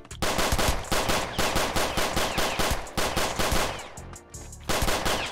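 Rapid bursts of automatic gunfire from a video game, loud and continuous with short pauses between volleys, heavy repeated shots filling the whole clip with no talk over it.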